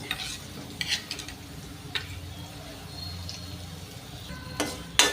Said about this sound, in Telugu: దోరగా వేగిందాక కలుపుకోవాలి